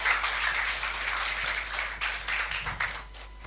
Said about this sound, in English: Once again, let's give a warm of applause for our third speaker.